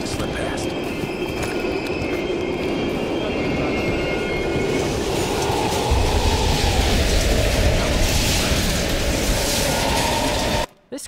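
Train passing in Call of Duty: Black Ops Cold War, heard as a loud, continuous rumble of rolling wagons with metallic screeching, swelling louder midway before cutting off abruptly at the end.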